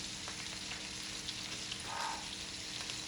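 Ground garlic frying in hot oil in a pan, a soft continuous sizzle and crackle, fairly faint and steady, with a brief bubbling gurgle partway through.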